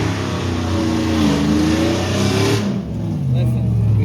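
A cammed truck engine revs hard at a drag strip, loud and close, with rising and falling pitch sweeps as it accelerates and people talk over it.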